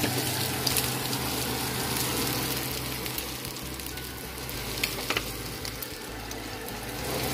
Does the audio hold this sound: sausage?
yes